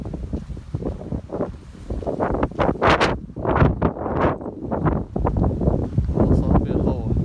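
Gusty outdoor wind buffeting the microphone near date palms, with rumbling surges rising and falling while a person talks over it.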